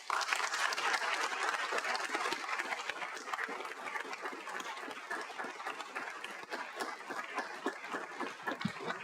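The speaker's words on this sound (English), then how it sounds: "Please give her a round of applause." A crowd applauds steadily at a city council meeting, dense clapping sustained at a fairly loud level throughout, with no voices standing out.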